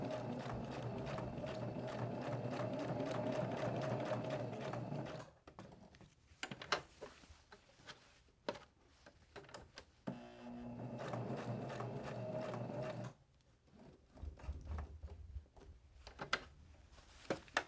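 A sewing machine runs in bursts while stitching around the edge of a purse made from neckties: a few seconds of steady whirring, then stops and short clicks, then another run.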